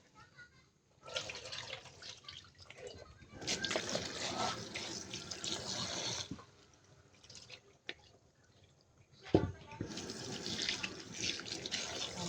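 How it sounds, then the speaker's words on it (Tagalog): Sapsap fish being rinsed under a running kitchen tap, with splashing and gushing water in several uneven bursts separated by quieter pauses and drips, close by and fairly soft. "Pagkatapos, hugasan lang po natin."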